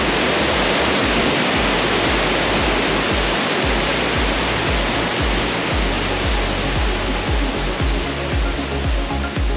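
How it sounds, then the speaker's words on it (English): Heavy waterfall roaring at the base of the falls near Mareeba in Far North Queensland, a loud, steady, dense rush of pounding water that fills the whole clip without a break. "We've made our way to the bottom of the falls"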